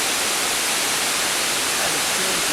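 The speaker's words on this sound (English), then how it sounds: "I'm panning over to the waterfall now." Hickory Nut Falls at Chimney Rock roars as a loud, steady broadband wash of falling water, continuous and dense throughout with no breaks.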